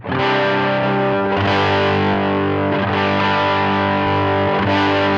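Heavily distorted electric guitar chords through a Helix US Small Tweed amp model with parametric EQ ring out loud and sustained, restruck a few times with a thick, saturated tone.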